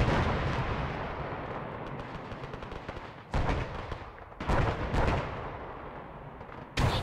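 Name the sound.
grenades exploding in the video game, Battle of Long Tan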